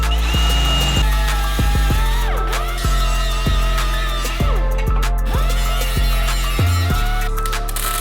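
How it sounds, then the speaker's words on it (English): A power drill whines steadily as it bores into a Honda NSX steel body panel, with repeated sharp bites and pitch drops as the bit cuts through, loud and close. "Drill a hole and fill the hole with weld"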